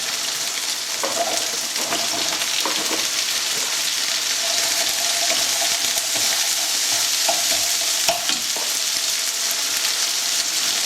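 Onions fry with sealed beef in a hot pan for beef and black bean sauce, giving a steady, close sizzle with occasional stirring scrapes throughout.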